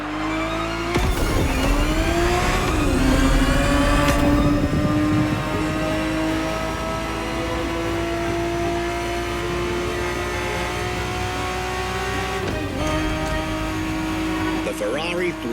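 A Ferrari 365 GTB4 V12 from the 1970s racing in The Crew Motorfest, its engine holding a loud sustained drone with rev rises and gear changes, while someone narrates over it.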